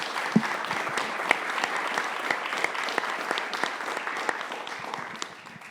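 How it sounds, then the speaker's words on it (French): People attending a public council meeting in Edmundston give a sustained round of applause, an even, moderately loud patter of many hands with a few distinct close claps, fading out at the end. "ça mérite une méchante bonne main d'applaudissements pour ces projets-là"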